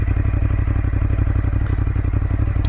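A 2020 Ducati Monster engine running in sport mode during a pull test, a loud, close, steady throbbing engine drone that holds throughout.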